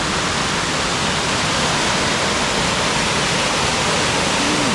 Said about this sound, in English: Let's see the waterfall.